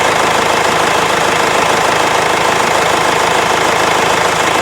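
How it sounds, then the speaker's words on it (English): A Ford Transit Connect 1.8 TDdi diesel engine idles up close, giving a loud, steady, rough clatter with an even rhythmic knock and no voices. "Once again, as the engine is idling"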